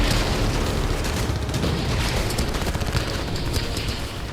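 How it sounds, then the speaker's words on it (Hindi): Dense, continuous rapid gunfire in the Russia-Ukraine war, loud and unrelenting, with shots blurring together into a roaring barrage throughout. "ताबड़तोड़ गोलियां चल रही हैं"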